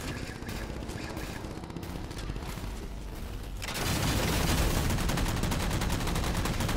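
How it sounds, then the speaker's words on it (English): Rapid automatic gunfire from a Halo 4 multiplayer capture-the-flag match crackles throughout, thin and busy at first, then swelling into a louder, denser barrage partway through. "And he's shooting me right now."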